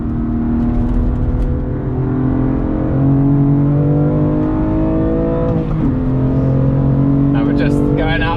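A BMW M2 drives on the Snetterton race track, its engine droning loudly and steadily with gradual shifts in pitch as it accelerates and eases off, close to the listener, with a voice audible over it.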